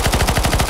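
Rapid automatic gunfire in CS:GO Zombies, Deadcore map on extreme mode, with a steady stream of loud, evenly spaced shots filling the whole moment and no voices.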